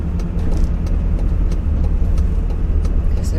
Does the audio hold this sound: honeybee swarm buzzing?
no